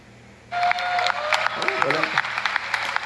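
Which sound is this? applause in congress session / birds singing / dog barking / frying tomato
applause in congress session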